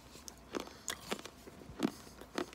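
Crunchy gum from a 1988 Topps baseball pack is chewed close up, with a few soft irregular crunches and bites, quiet and without talk.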